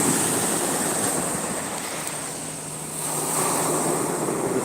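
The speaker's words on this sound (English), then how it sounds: "We even get the POV shot of the waves crashing." Ocean waves crash and wash steadily onto an Australian beach, a continuous broad roar that swells and eases, with gusty wind buffeting the microphone throughout.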